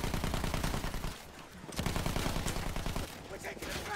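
Dense, rapid gunfire from a war video game rattles continuously in fast bursts, loud and close, with a brief lull in the middle before the shooting resumes.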